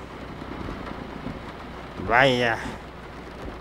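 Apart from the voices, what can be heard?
rain in the video game Grand Truck Simulator 2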